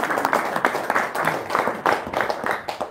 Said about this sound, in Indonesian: Sip, tepuk tangan dulu dong.